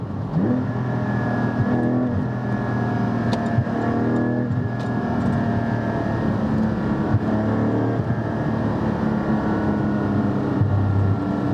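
A Porsche GT4 with a Milltek exhaust hums and revs steadily up close, with a low rumbling exhaust throughout and occasional burbling pops.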